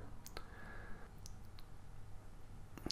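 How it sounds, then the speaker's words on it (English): A single crisp mouse click on a submit button, close and clear against a faint room hum, with a couple of softer clicks following. "all I need to do is click submit, like so"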